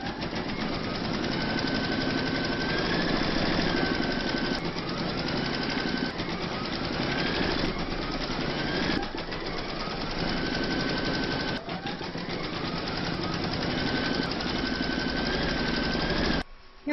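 An embroidery machine stitches a large Celtic topper design with a rapid, steady mechanical chatter that runs nearly unbroken and up close, with only brief pauses.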